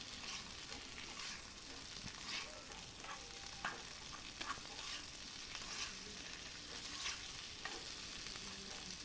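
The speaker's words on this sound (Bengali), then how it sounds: "নাড়াচাড়া করে নেব একটু।" Fried fish pieces for chilli fish being stirred in a pan, a quiet continuous sizzle with soft scraping stirs recurring every second or so, no voices over it.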